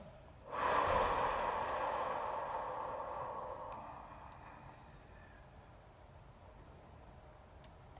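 A single deep, slow breath drawn in and let out during a guided relaxation exercise, close and alone, trailing off into quiet.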